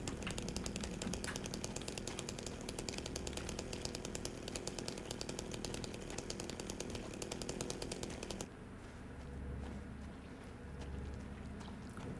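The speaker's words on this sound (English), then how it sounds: "Gas-powered chainsaw, extremely high attack power." A gas-powered chainsaw in the game Silent Hill 2 revs in a fast, rattling buzz for several seconds, then cuts out abruptly, leaving a low rumbling background.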